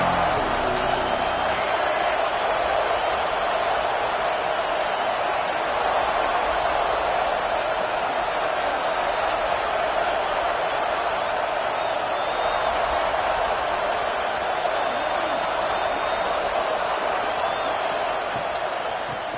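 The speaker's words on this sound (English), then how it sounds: "This crowd ready to make its presence known." A college football stadium crowd at a first game of the season roars steadily, a dense continuous wash of cheering voices that stays loud throughout.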